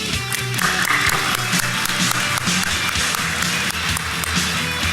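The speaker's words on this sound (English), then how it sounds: "Let's give him a big round of applause." Audience applause fills a DefCon conference hall after a first-time speaker's talk on VoIP attacks is introduced, a dense, steady wash of clapping with some low murmur and music-like hum underneath throughout.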